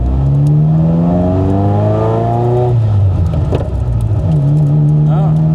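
A Ferrari F40 with a dogleg gearbox pulls away in first gear, its engine rising in pitch as it revs up, dropping briefly, then climbing again, loud and close inside the car.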